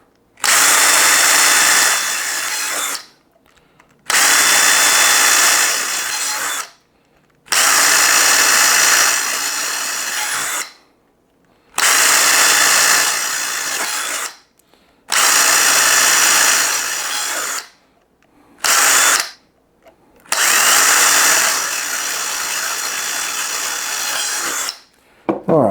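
A power drill runs in seven long bursts of roughly two to three seconds each, separated by short pauses, while holes are bored for a capacitor bank build; it is loud and close, with no talking.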